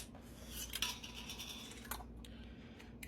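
Canning jar lids and metal bands, some of them reused, being fitted onto jars of pressure-canned dry beans, giving a few light metallic clicks and clinks at close range with no talking.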